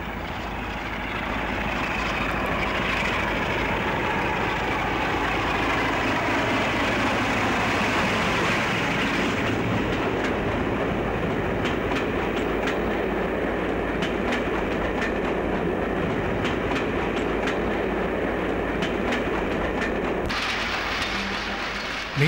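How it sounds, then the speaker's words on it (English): A Class 47 diesel locomotive pulls an intercity train with a buffet car away, its engine drone steady while wheels clatter over rail joints, fading out at the end. "a Class 47 departs with an intercity train probably bound for Norwich"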